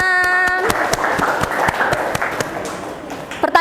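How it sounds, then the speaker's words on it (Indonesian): A classroom group bursts into brief applause, irregular hand claps that swell and then thin out over a few seconds, with a voice audible at the end. "Oke, tepuk tangan."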